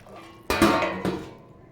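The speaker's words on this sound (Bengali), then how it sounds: "চলো এবারে আমি এটাকে ঢেকে দিই" A lid goes onto a pot of aloo dum, two close metallic clanks about half a second apart with a short ringing tail, fairly loud against a quiet kitchen background.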